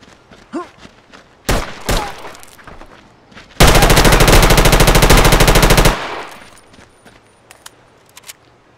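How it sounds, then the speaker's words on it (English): Sustained automatic gunfire in a SOCOM shooter match, a dense rapid burst lasting a couple of seconds after a few separate loud shots, then fading to quieter ambience. "Classic gun battle right here."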